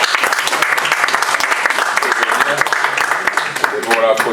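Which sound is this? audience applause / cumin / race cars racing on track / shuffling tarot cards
audience applause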